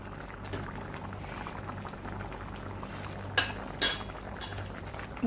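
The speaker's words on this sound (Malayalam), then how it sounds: "ഇത് ചട്ടിയിലായതുകൊണ്ട് തന്നെ മൂടി വെച്ചാലും ഇത് കുറച്ച് നേരം തിളച്ചുകൊണ്ടിരിക്കും" Manthal fish curry with coconut oil boils in a clay pot, giving a quiet, steady bubbling simmer broken by a couple of brief clinks.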